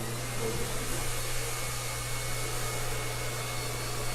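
A hair dryer blows heat during a cap weave styling session, giving a steady, continuous broadband rush with a low hum that holds evenly throughout with no voices.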